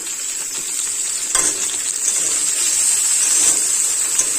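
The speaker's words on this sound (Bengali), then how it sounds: "পেঁয়াজ লঙ্কা টমেটো সব বারবার নাড়াচাড়া করে দু থেকে তিন মিনিট খুব ভালোভাবে নাড়াচাড়া করে কষাই করে নেব" Onion, green chilli and chopped tomato fry in a pan while being stirred, making a loud, continuous hissing sizzle with a few brief scrape accents from the utensil; no talk.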